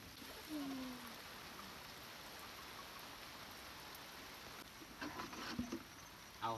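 Steady rain falls without pause around a farm hut, a dense soft patter holding level throughout, with a few faint knocks and clatters near the end.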